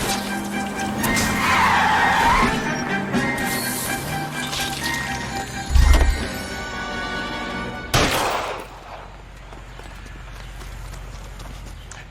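A police car chase in the video game L.A. Noire, with loud engine roar, a clear tire skid, a sharp gunshot-like crack near six seconds and a second impact burst at eight seconds, fading to low rumble.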